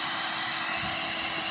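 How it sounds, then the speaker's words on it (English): A heat gun blows hot air with a steady, close whooshing hiss, constant and unbroken from start to finish, during a door handle repair on an Alfa Romeo Giulietta. "I want to use my heat gun"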